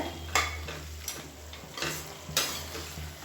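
A spoon stirs chicken biryani masala in a cooking pot, sounding as four sharp scraping strokes over a quiet sizzle of frying, close by, with no voices.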